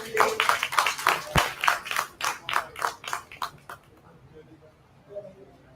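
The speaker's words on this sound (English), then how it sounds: "A huge round of applause for our guests who has traveled so far to join us today." Audience applause at a corporate conference in Multan, a burst of fairly close, distinct claps with a steady rhythm that thins out and fades after a few seconds.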